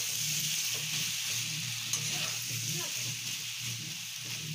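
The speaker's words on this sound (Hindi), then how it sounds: "इसे भी मैं भून लेती हूँ टमाटर गलने तक" Tomatoes frying in a pan, a steady close sizzle with soft stirring and faint bubbling throughout, a voice talking over it at times.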